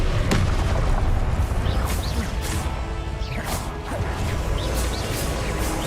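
Spell blasts from the Confringo fire spell in Hogwarts Legacy burst repeatedly, loud crashing impacts and whooshes in quick succession, with combat noise throughout.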